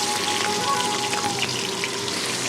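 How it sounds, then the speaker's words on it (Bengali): Fish heads fry in hot mustard oil with a steady, dense crackle and spatter like rain on a surface, close and even throughout with no talking. "বাকি যে মাছের মাথা ছিল সেটাও ভালো করে ভেজে নেব।"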